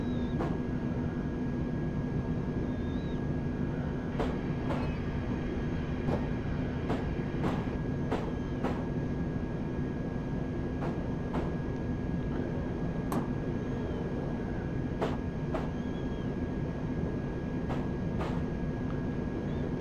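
Simulated London Underground seven-car train running on approach into Olympia, a steady low rumble and hum with a constant tone, punctuated by regular sharp clicks of wheels over rail joints throughout.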